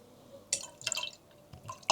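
Sparkling water goes into a drink glass, heard as a few quiet, close splashes and drips in separate bursts rather than one steady stream.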